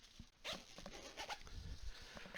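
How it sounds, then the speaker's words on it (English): A zipper closes on a LowePro Slingshot Edge 150AW sling camera bag, a few quick scratchy pulls close by with soft handling rustle. "Slide it in the top there and zip it up."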